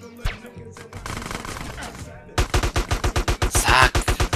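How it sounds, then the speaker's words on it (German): Automatic gunfire from GTA San Andreas, a dense run of rapid, loud regular shots that builds into a sustained burst in the second half, with earlier game noise and brief talk before it. "Knall ihn doch einfach ab."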